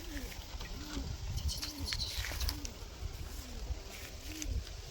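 Pigeons coo in a series of low, rounded, repeating calls, about seven soft coos in a row, faint under steady outdoor background noise with scattered chirps, with no talking.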